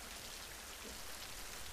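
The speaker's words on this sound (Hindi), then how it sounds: "बाहर कितनी तेज बारिश हो रही है" Heavy rain pouring outside, a steady dense wash of drops at a fairly low level, unchanging throughout with no voices.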